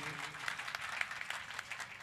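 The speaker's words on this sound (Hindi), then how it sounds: "एक जोरदार ताली बजाइए।" Hands clap in a quick, lively burst from an audience at a music competition show, steady crackling applause heard fairly close with no voices over it.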